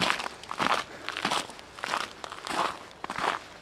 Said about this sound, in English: You can hear me crunching through the ice.